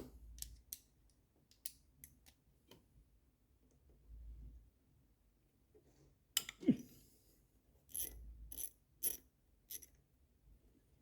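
A socket wrench with an 8mm socket ratchets on a Jaguar XFS 3.0 engine, giving quiet, sparse bursts of sharp clicks close by with pauses between strokes.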